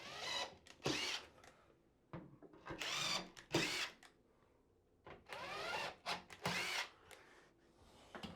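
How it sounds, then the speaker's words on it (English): A power drill pre-drilling holes for galvanized screws during a frameless glass shower door installation whirs in several short bursts separated by pauses, close and loud, each burst rising and cutting off sharply. "you want to use your galvanized screws and just pre-drill."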